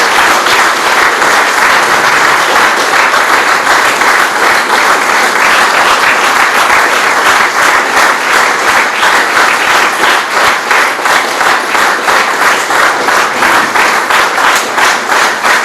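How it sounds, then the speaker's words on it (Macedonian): An audience at a book and music event honoring a journalist's writing breaks into loud, sustained applause, dense hand clapping that continues steadily throughout without pause. "Ве молам за еден голем, огромен аплауз."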